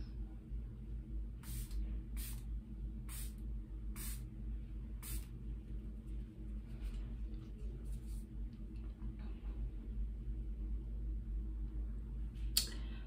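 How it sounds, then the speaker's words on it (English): Setting spray misted over a face, about five short, sharp spray bursts in a quick irregular series near the mic, then quieter soft sounds and one more burst at the end. "And I spray about 4 times all over the face."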